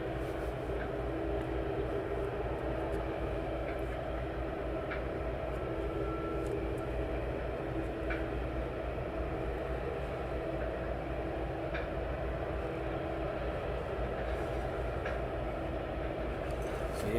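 An aircraft departing East Midlands Airport, heard as a steady, loud, continuous engine roar that holds through the whole stretch without a break, with no talking.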